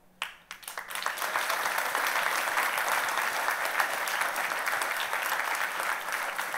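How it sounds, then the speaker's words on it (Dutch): Crowd applause at a D66 campaign kickoff rally in the Netherlands, starting with a few scattered claps and quickly swelling into sustained, even applause from a large audience. "APPLAUS."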